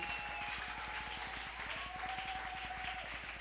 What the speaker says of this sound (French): Est-ce que nous pouvons applaudir pour cette parole du Seigneur?